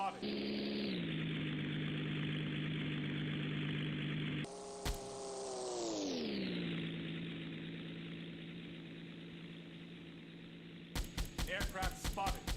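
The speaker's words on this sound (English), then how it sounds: "Aircraft spotted. Bearing 236. Medium range." An aircraft propeller engine drones steadily in Silent Hunter 3, shifts pitch and settles into a lower, quieter hum, and ends with a burst of rapid sharp bangs.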